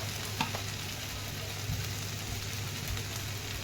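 Onion and potatoes cook together in a pan, giving a soft, even sizzle with a few faint stirring taps, quiet and steady throughout.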